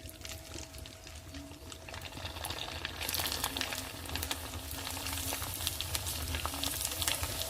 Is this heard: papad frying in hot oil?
yes